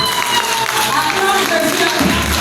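Church congregation at a Sunday service applauding and acclaiming Jesus, a dense wash of clapping and cheering voices filling the room, loud and continuous.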